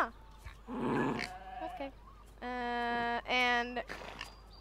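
Sheep in the video game Star Stable Online give several clear harmonic bleats, two long ones in close succession, loud and near, with a woman's chatter around them.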